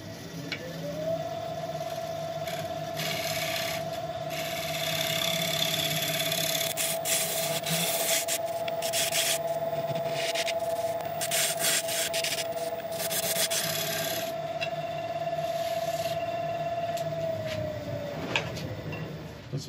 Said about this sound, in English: It's going to still need a bit of cleaning up with a scraper, which I'll do now.